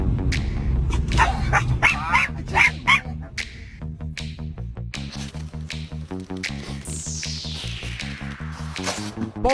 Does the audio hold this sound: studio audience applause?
no